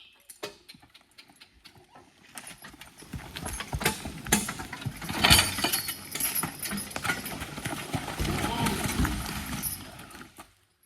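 Draft horses working in mud during logging, heavy irregular hoof thuds and squelching steps drawing closer and growing louder, with jingling harness and occasional voices in the background.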